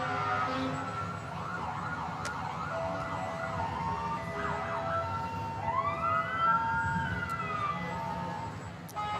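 A Ladder 3 fire truck siren wails and sweeps up and down over steady road rumble, a clear sustained whoop shifting pitch repeatedly, moderately close, with no talk over it.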